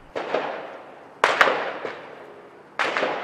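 Sharp cracking bangs of gunfire go off one after another in a San Diego neighborhood, four or five loud reports spaced irregularly, each leaving a short rumbling echo behind.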